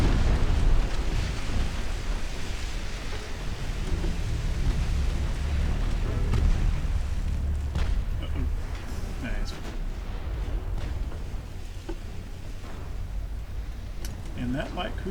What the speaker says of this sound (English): Oh, I think we're going to get a torpedo hit.